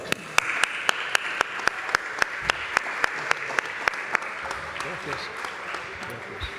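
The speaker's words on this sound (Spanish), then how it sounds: "Un aplauso." Applause from a crowd at a book presentation, with one person's sharp claps in a steady rhythm standing out above the rest, fading out near the end.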